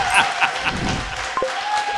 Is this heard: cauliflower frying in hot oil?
no